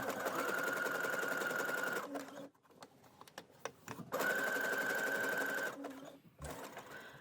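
A sewing machine runs in two steady bursts while understitching the neckline of a bikini, stopping briefly between runs with small handling noises in the pause; no talking.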